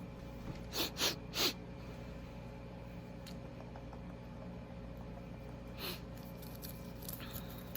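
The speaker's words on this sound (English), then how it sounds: "A lot of sniffs in this video, yeah, just randomly" A few quick, faint sniffs close by, three in a row early on and a couple more later, over a steady low background hum.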